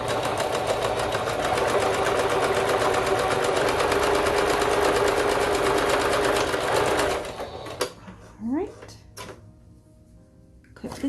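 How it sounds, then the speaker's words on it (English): A sewing machine stitches knit fabric for a bow-wrap in a loud, continuous rapid whir for about seven seconds, then stops, followed by softer handling noises and faint clicks. "make sure you pull it and you back stitch, of course"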